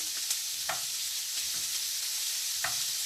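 Liver cooking in butter in a frying pan, a constant bright hiss of sizzling with a few faint spoon scrapes at irregular moments, steady and fairly quiet, no one speaking.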